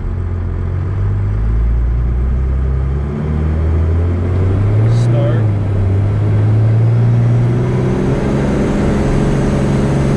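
A twin-turbo Cummins diesel truck engine builds boost on a flooded road, a steady low rumble that swells slightly and holds, close and continuous throughout, with a brief rising whistle midway.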